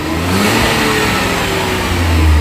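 A new Kia car's engine is revved hard, a loud close roar that climbs in pitch, holds at high revs, then surges again toward the end.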